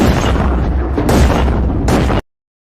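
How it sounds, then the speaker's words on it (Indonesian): Gunshots fired over and over in a horror film, a continuous run of loud, close booming blasts that cuts off abruptly into silence. "Charlie menembaknya berkali-kali hingga peluru habis"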